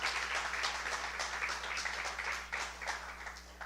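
A church congregation applauds, a dense, steady wash of many hands clapping at moderate distance, continuous for a few seconds with no talk over it.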